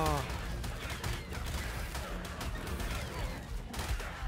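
Dense, rapid automatic rifle fire from ARK: Survival Evolved fills the whole stretch with constant crackling bursts, and someone speaks Korean over it.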